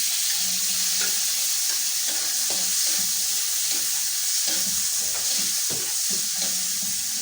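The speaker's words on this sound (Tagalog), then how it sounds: "Lutuin natin ang kaunti ang kamatis. Ganun ako maggisa." Tomatoes sautéed with garlic in a hot pan give a steady close sizzle, with repeated scraping and stirring strokes throughout and no talking.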